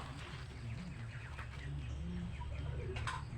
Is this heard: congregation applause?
no